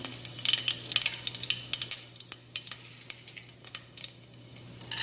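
Cumin and mustard seeds sizzling in hot oil in a pan, a soft steady crackle with scattered pops and spits, faint and close, with no talking.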